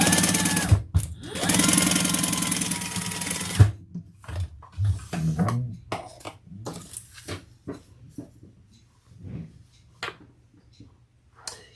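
A sewing machine bastes fabric in a loud, dense burst of running stitches lasting a couple of seconds, followed by scattered quieter handling clicks and thumps.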